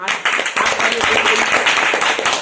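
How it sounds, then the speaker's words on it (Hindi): An audience at a Hindi motivational talk on earning money claps in a dense burst of applause lasting a couple of seconds, fairly loud and close, with a brief dip early on. "आज की ट्रेनिंग ताली बजा लो"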